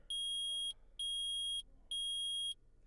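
Three sustained electronic beeps from a metal detector in Phoenix Wright: Ace Attorney Trilogy, evenly spaced and fairly loud, each a high steady tone lasting over half a second with short gaps between.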